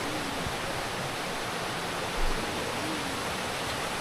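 The Saut du Gendarme waterfall in Martinique pours as a continuous broadband roar of falling water, steady and enveloping, with no talk.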